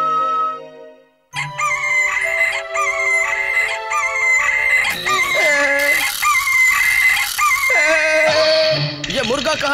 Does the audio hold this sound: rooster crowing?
yes